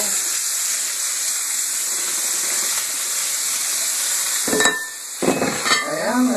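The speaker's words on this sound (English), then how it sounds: "we are going to stir fry those and for 3 minutes until the peppers are crisp tender" Green and red peppers and mushrooms stir-fry in hot oil, with a loud, continuous close sizzle and hiss, then bursts of stirring and sputtering near the end.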